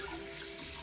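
Water pours steadily into a backed-up kitchen sink drain, a close, continuous rushing hiss with no pauses.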